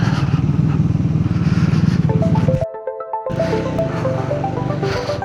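A motorcycle rides on a road in Ladakh between Leh and the Nubra Valley, its engine a loud, close, steady drone that briefly cuts out before resuming alongside a few short tonal beeps.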